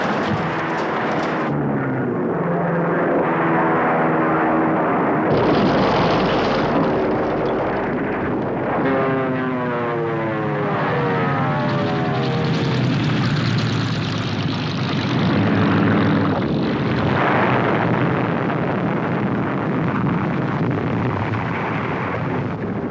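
World War II propeller aircraft engines roar loudly and continuously as planes pass, the drone rising and falling with sweeping pitch changes throughout, with no voices present.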